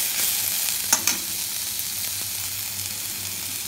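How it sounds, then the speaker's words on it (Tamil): Garlic sizzles steadily in hot oil in a pan while kuzhi paniyaram is prepared, with a constant close frying hiss and a couple of brief stirring clicks. "பூண்டு கொஞ்சம் வதக்கிக்கிறோம்"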